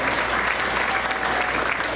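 A crowd at a school board meeting applauds the all-state choir members, a loud, steady wash of many clapping hands that fills the short stretch without letting up.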